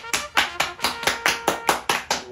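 Eight quick, evenly spaced hand claps, close and crisp, forming a steady rhythmic beat with no voices.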